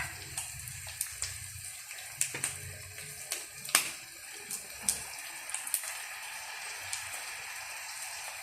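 Fish sauce is poured into a cooking pot, a soft, faint liquid trickle with scattered light drips and clinks from close by, with no talking.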